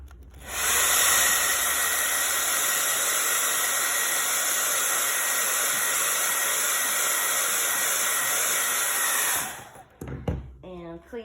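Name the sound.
hair dryer drying paint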